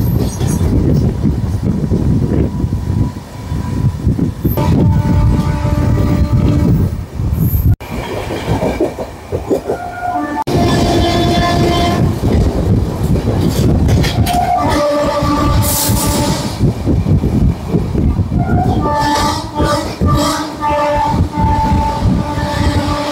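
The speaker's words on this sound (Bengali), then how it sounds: "ট্রেন যাচ্ছে পুরো ঝড়ের গতিতে" The 12337 Shantiniketan Express, hauled by an electric locomotive on the Howrah to Bolpur run, roars along at high speed with loud rushing wind and wheel clatter, broken by several long horn blasts and occasional wheel squeal.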